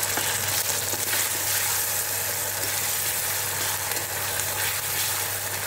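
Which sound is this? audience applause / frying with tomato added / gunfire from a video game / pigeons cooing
frying with tomato added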